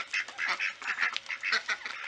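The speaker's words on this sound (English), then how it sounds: "these two little khaki Campbells. They usually run out there quacking and squawking" Khaki Campbell ducks quack rapidly and repeatedly, a busy chorus of nasal calls close by, with no other sounds.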